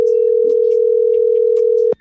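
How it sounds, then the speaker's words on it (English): A steady, loud telephone dial tone hums continuously for about two seconds while a call is placed back, then cuts off abruptly with a click. "Let me call Tracy back"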